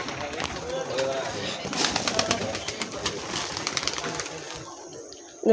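Pigeons released from an opened coop, with soft cooing, rustling and a few wing flaps close by, under a voice speaking throughout.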